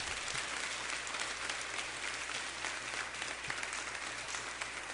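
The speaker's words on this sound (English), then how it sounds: "So another round of applause for everybody who got honored today." At a DSP recognition ceremony, a roomful of people applauds honorees with steady, continuous clapping that stays fairly even and moderately distant for several seconds, with a low hum underneath.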